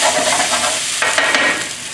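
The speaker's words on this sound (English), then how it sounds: "I'm going to stir this for maybe a few minutes until the noodle nicely hot" Vegetable noodles being stir-fried in a hot pan for a vegan dish, giving a steady close sizzle with scraping, tossing stirs throughout.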